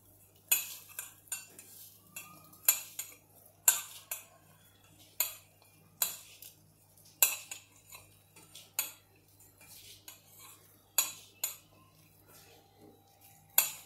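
Sago patty mixture with salt and chili being mixed in a bowl, a spoon giving a slow, uneven series of sharp clinks and taps against the dish, fairly faint over a low hum, no voices.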